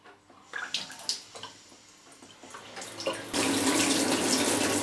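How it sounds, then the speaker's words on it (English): Water rushes from a reseated tap after it is reassembled. Squeaks and clunks from the fitting come first, then the flow turns on and keeps running steadily and loudly at close range. "now I'm going to turn the water back on"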